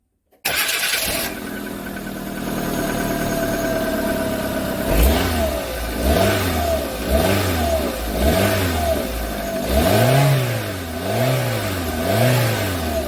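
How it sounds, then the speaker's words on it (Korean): A Kia Morning engine starts with a sharp crank after a holed muffler is patched, settles into a steady idle, then revs up and down repeatedly in rhythmic surges, close and loud. "시동 걸어 소리 들어볼게요."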